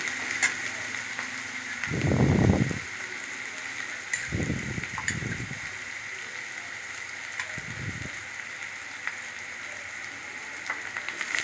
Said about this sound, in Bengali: পেঁয়াজ রসুন লঙ্কা ভালো করে একটু ভেজে নেবো